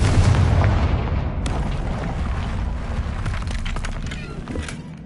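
A Confringo explosive spell is cast in Hogwarts Legacy, giving a sharp blast with a rumbling low boom and crackling debris afterward, set over a continuous deep game background.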